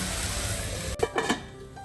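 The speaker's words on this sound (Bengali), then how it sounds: "সবজিগুলো একটু ভালো করে ভেজে নেব আমি যেহেতু কম তেলে রান্না করছি" Vegetables, including eggplant, frying in a pan with little oil while small fish chorchori is cooked, giving a steady soft sizzle with a few brief stirring or lid clatters near the end.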